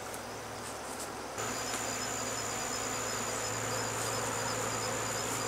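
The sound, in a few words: honeybees buzzing around honey frames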